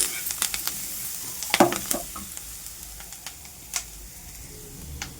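Salted amaranth and fenugreek leaves being stirred in a pan, with a soft sizzle and scattered scraping ticks from the spoon, close and fairly quiet.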